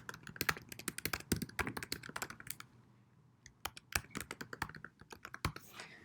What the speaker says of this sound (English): Click on that to open up where you can type in your username and password.